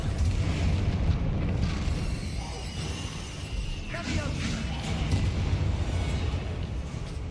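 A Confringo explosive spell blast in Hogwarts Legacy, heard as a dense rumbling boom with a sharp crackling burst midway, loud and sustained under a busy, noisy battle mix.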